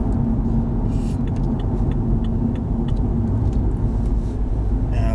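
A remapped BMW M135i with an Eisenmann exhaust rumbles along, its deep, steady engine and exhaust drone heard loud from inside the car, with faint ticks and clicks on top and no one talking.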